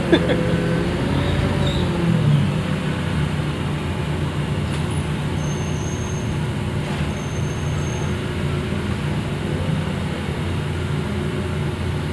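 Steady interior rumble of a moving TransJakarta bus in Jakarta, with continuous low engine and road drone and faint rattles, without any voices.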